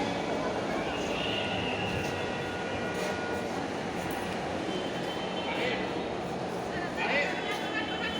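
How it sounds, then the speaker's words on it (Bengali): A metro rail train pulls into a station, its steady broadband rumble and rolling noise filling the platform while people talk nearby throughout. "দেখতে পাচ্ছি দ্বিতীয় একটি ট্রেন এসে গেছে।"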